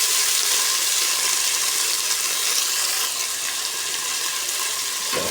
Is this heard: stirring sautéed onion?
yes